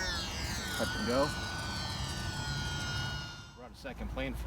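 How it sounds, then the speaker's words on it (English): Small HobbyZone Champ S+ RC airplane in flight, its electric motor whining steadily at middle distance for several seconds under wind, with someone talking briefly at the start and again near the end. "let's fly the Champ S Plus"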